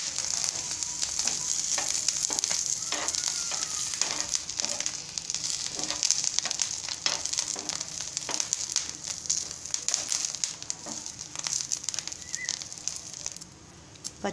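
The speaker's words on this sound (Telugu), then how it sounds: "పచ్చిమిర్చి వేగిపోయాయండి" Green chillies fry in hot oil for a tamarind chutney, producing a steady, close crackling sizzle with spattering pops that continue throughout, easing slightly at the very end.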